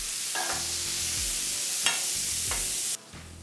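Vegetables for Philly cheesesteak eggrolls sizzle and fry steadily in a hot pan, a continuous hiss with a few brief stirring scrapes and a sudden drop in level near the end; no one speaks.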